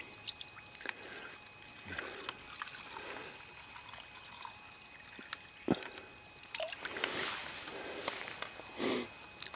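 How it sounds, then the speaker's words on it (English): Stream water trickling and gurgling into Sawyer water bags outdoors, a soft continuous flow with occasional splashes and handling bumps, close, without talk. "this is a stream we're going to fill our water up with"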